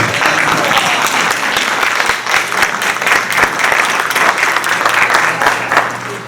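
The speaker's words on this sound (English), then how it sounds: "Can we clap for this guy?" Sustained audience applause fills a candidate forum for county board of supervisors in Oakland, Iowa, a steady dense clapping from a room of people that holds for several seconds before tapering slightly.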